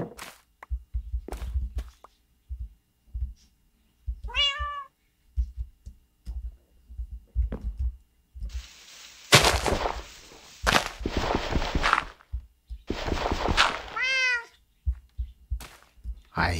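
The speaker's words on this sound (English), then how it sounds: "I hear the kitty." Several short, high-pitched synthetic meows from a Minecraft cat come in bursts, separated by soft taps and clicks, fairly near and clear.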